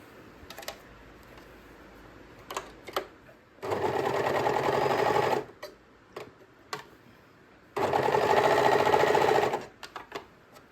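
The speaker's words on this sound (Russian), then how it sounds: "И сейчас на оверлоке вот этот весь шов" Overlock serger sewing a seam on a fuchsia dress, two loud, fast-running bursts of about two seconds each, separated and surrounded by sharp clicks and handling taps, close up.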